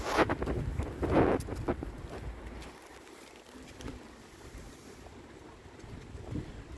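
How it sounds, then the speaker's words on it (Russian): Strong December wind roars and gusts outdoors near a forest and lake in Visaginas, Lithuania, loudest in the opening seconds, then settling into a steady rushing buffet against the microphone. "Прям ураганный ветер."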